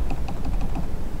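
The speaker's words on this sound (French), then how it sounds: "Alors c'est un clavier silencieux comme je vous le dis. Écoutez." Soft, muted taps from a low-profile silent computer keyboard, a quick steady run of keystrokes with no mechanical clack, close and alone.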